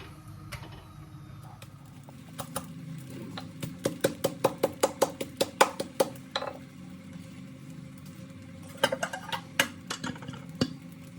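A petai paratha frying and being beaten in a home kitchen: bursts of sharp, rhythmic slaps and knocks in quick runs, separated by quieter stretches with a low background hum.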